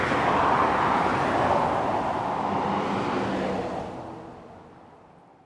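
Heavy road traffic with trucks on a road in Japan, a loud steady roar of passing vehicles that slowly fades away as they recede.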